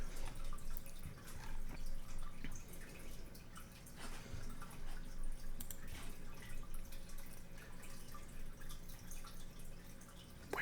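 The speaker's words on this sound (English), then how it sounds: "you're gonna hear a massive amount of fish tank in the background" Fish tank water bubbles and drips steadily in the background of a room, a soft, continuous trickle with irregular plinks and gurgles and no voices.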